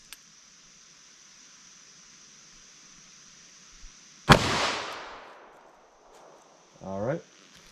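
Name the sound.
327 Federal Magnum gunshot, Sierra JHC handload, 4.2 inch barrel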